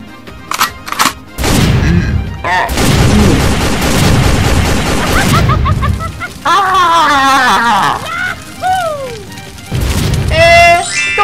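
Cartoon gunfire in a chaotic animated battle, loud bursts of rapid shots mixed with booms and crashes, broken up by animated voices, whistling squeals and other effects.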